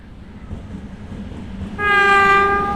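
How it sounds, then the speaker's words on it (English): A cargo train passing through a Russian village sounds a loud, sustained multi-tone horn that cuts in near the end over a steady rumble of rolling freight cars. "Oh, look at that. That's the cargo train."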